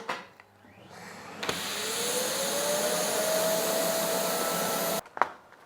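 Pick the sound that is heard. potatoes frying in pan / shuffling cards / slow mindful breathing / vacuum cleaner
vacuum cleaner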